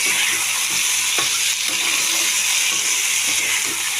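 Rice, potato and pointed gourd fry in a pan with a steady, loud sizzle and hiss throughout, broken by a few faint stirring scrapes.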